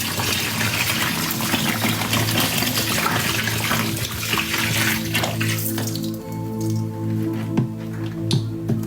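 Liquid dish soap and detergent glug and splash as they are poured out in a steady wet stream, thinning into scattered drips near the end.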